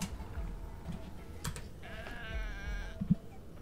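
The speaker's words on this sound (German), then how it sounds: "Blöken." A goat bleats once in the video game Goat Simulator 3, a short, wavering call over a busy game soundscape, with a few faint knocks around it.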